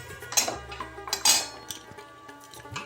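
A spoon stirs ground cumin in a cooking pot while jute-leaf dal is being made, giving a few close, bright metallic clinks and scrapes against the pot with quiet gaps between them and no talking.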